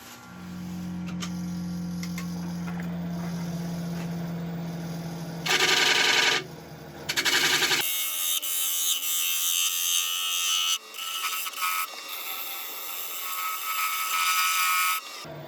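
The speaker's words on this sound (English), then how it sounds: "Let's quickly go and sharpen up again." Woodturning tool sharpened on a bench grinder, used while turning a spalted sycamore board into a bowl: a steady motor hum, then bursts of bright, harsh grinding as the steel meets the wheel, loud and close with no talk.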